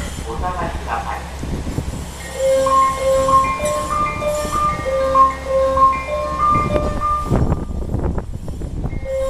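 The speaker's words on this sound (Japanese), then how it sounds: "列車が参ります。" A Super Hakuto HOT7000 series limited express train rumbles into Kurayoshi Station with a steady low drone while a bright chime-like melody plays over it, and a voice speaks partway through.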